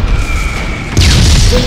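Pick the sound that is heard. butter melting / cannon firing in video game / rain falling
cannon firing in video game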